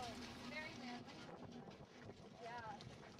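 Wind buffets a microphone outdoors while walking around a rural Midwest area near a football stadium, making a rough, fluctuating rush, with voices talking faintly over it.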